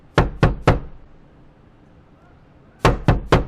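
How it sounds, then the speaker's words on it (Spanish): Two quick sets of three sharp knocks on a door, loud and close, with a quiet pause between them. "Entonces eran ya las 6 de la tarde cuando llamaron a la puerta."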